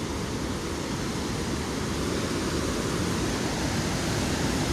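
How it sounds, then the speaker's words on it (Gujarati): Flood water on the Sabarmati river pouring over a dam, a loud, steady, unbroken roar of rushing water filling the whole scene with no voices. "જો ડેમ ઉપર કેટલું પાણી ચાલુ છે અત્યારે."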